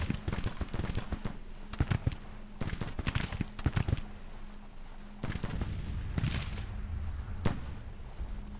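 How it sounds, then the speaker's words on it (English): Artillery fire in the Civil War strategy game Grand Tactician: The Civil War sounds as repeated sharp booms and crackling volleys in irregular clusters, loud and close over a constant low battlefield rumble. "I like that our artillery is dropping right on top of these guys"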